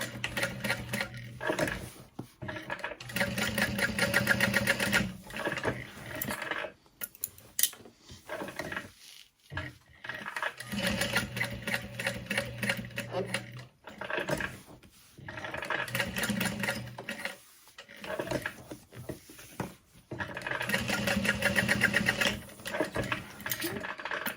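Sewing machine stitching a box-stitch pattern on a backpack strap, running in several loud bursts of rapid mechanical chatter separated by brief pauses, with faint talk in between.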